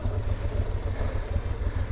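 Motorcycles rumble near a motorcycle hotel on a road trip through Romania near the Ukrainian border, a steady low engine drone with throbbing pulses and no voices.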